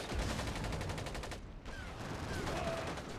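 Faint, rapid bursts of MG42 machine gun fire from a World War II strategy game, Order of War, rattling in a steady stutter of closely spaced shots.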